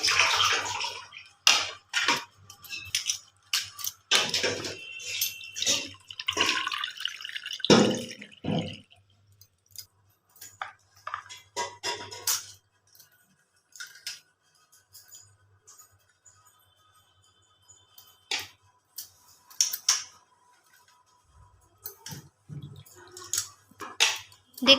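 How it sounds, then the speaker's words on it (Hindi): Cut pumpkin stems washed in water, with splashing, dripping and clinking of a bowl in uneven bursts, busy at first and then sparser with quiet gaps, recorded close. "एबे आमे काटी रखिथिबा कखार डंगा को धोई नेबा"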